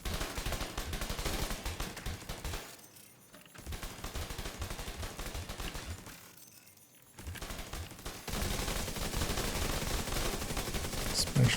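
A turret firing in a video game, a loud, sustained stream of automatic shots that pauses briefly twice before resuming in a heavy continuous barrage.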